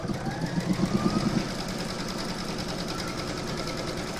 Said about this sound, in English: I'm now going to pop this back into my machine and stitch round number 13, and that's going to do the quilting in this area here.